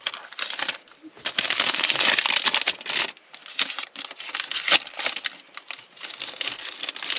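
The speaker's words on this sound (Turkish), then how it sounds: "poşetini çıkaralım" A plastic bag is pulled off the packaging of a CarpodGo T3 Pro car display screen, giving close, continuous crinkling and rustling in irregular bursts.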